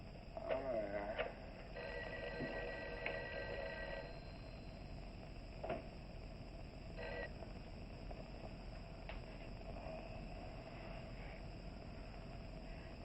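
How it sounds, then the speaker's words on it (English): A telephone rings on and off without being answered in a 1959 film scene, the bell bursts coming at intervals over a low steady background hum. "Mary, see if you can get Jan on the phone."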